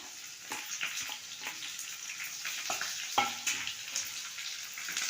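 Chopped onions frying in hot tempering oil for a home-style dal, a steady sizzling hiss with soft crackles and a few sharp pops and clinks of stirring throughout, close and fairly quiet.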